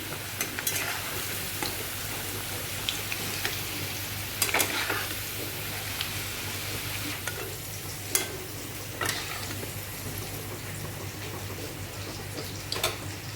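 Potatoes and onions frying in a pan while a prawn and spinach dish is cooked, a quiet, even sizzle with occasional light stirring clicks and utensil taps, close by and with no talking.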